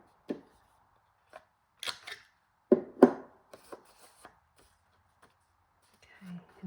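A paper trimmer angle-cuts paper for a journal file tab, giving a few short, dry slicing and rustling sounds with scattered handling taps amid quiet, plus faint whispered talk.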